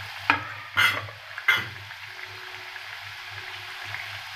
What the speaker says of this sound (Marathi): आता आपण त्यांना फ्राय करूया.